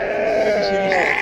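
A sheep bleats at a busy livestock market, one long wavering call close by, with faint crowd murmur behind it.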